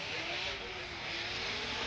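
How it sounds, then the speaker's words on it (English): A V8 drift car's exhaust roars steadily at Formula Drift qualifying in St. Louis, a dense, continuous engine rumble with a slight lift and return to throttle, heard from a distance over the broad noise of the track. "The V8 just pounding away."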